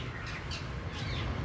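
A pet parrot gives a couple of short, harsh squawks close by, each a quick rasping burst over a quiet background.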